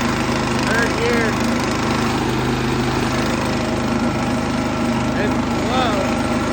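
Bolens 1050 lawn tractor fitted with a Predator 212 engine drives in third gear, its steady engine drone continuous and fairly loud, with people speaking briefly over it.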